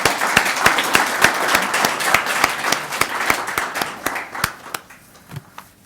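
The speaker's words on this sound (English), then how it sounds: "I'd like to get another round of applause for Danielle Hartridge, John Horstman, and P" Audience applause at a university international student association's 10th anniversary celebration, a dense steady clapping from a crowd with sharp individual claps, thinning out and fading near the end.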